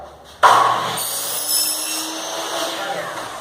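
A power saw starts abruptly and cuts straight through an aluminium window screen frame profile, a loud steady whirring grind with a high metallic edge that holds for about three seconds after a brief quiet moment.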